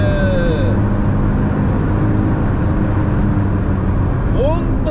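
A Honda S660 Modulo X Version Z sports car is driven hard on a wet circuit, its engine droning loud and steady close up, with someone talking over it.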